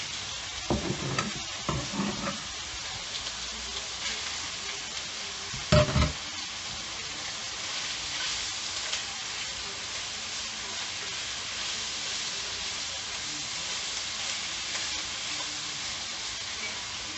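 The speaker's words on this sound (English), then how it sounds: "Get it in the pan so we can fry it a bit." Store-bought precooked sausage sears in a hot pan with a steady, close sizzle and hiss that runs throughout, with a few stirring scrapes and knocks near the start.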